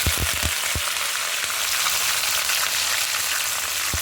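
Onions and green chillies fry in hot oil for a brinjal and tomato curry, a loud, steady close sizzle with a few low thumps at the start as they drop into the pan.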